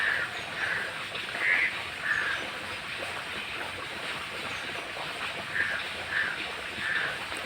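A crow perched on a pipe caws repeatedly in short harsh calls, spaced out in small bursts, against a soft outdoor background wash with no talking.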